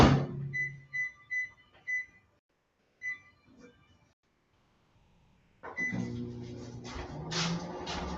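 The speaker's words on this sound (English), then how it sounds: "I'm just going to warm them slightly in the microwave" A microwave oven warms ingredients at partial power: a series of beeps as buttons are pressed, a pause, then the oven starts with a door thump and a steady humming whir that runs to the end.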